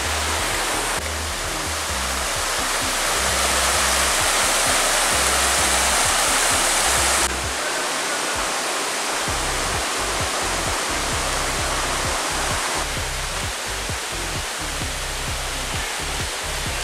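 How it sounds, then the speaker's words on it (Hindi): Bee Fall waterfall in Pachmarhi roars steadily and loudly at close range, a dense continuous rush of falling water with no voices. "ये वाला पानी नीचे जाता है बी फॉल में।"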